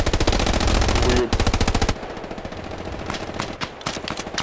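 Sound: machine gun fire in Hell Let Loose video game

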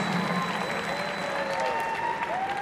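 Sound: crowd applause for boxing fighters

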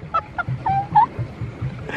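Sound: geese honking

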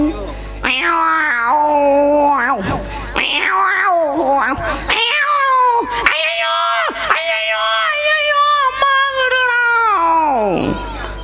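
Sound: voice imitating cats caterwauling

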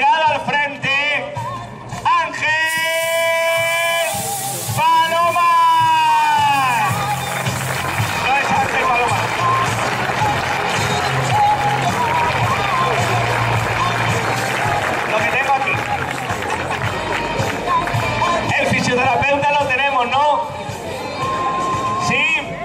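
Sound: applause for the senior team

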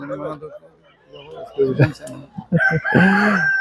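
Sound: chickens and roosters at a poultry market

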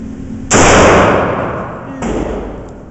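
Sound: Cobra CB38BB Big Bore Derringer firing its second shot

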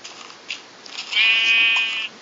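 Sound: sheep bleating in Minecraft video game

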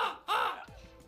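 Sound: crows cawing in Roblox video game

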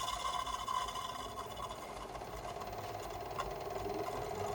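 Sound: solar-powered water pump running

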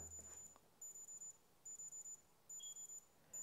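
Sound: Amazfit Neo Retro smartwatch alarm beeping

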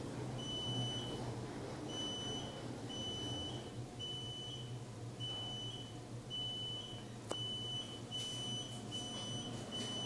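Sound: electronic beep

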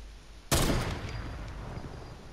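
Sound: sniper rifle shots in the video game Fortnite

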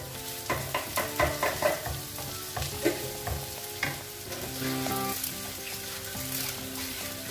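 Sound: curry leaves frying in oil for prawn pickle

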